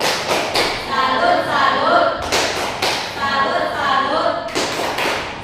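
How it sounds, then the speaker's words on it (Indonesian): Classroom "tepuk salut" clapping chant: a group of students claps out sharp, rhythmic bursts in repeating patterns, close and loud, with voices chanting along. "Itu tepuk salut dulu untuk Erna."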